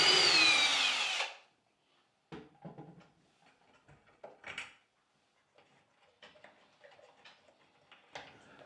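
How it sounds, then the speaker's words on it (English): A power drill backs shelf screws out of drywall, with a short loud whir up front followed by scattered clicks, taps and light knocks at close range, and no talking. "I'll remove the bottom screws first, since most of the weight is carried by the upper screws."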